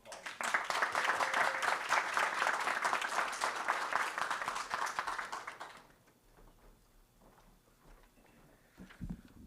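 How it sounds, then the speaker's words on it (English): Board meeting audience applauding staff and kids, a full round of clapping for about six seconds that stops abruptly, leaving quiet room noise and a faint voice. "Another round of applause."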